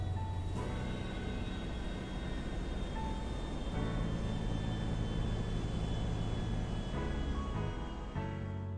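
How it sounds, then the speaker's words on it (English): Jet aircraft landing at an airport in the video game GTA V, a steady loud engine roar with a high whine held throughout, shifting in tone near the start and end. "Sometimes you'll even catch a jet landing."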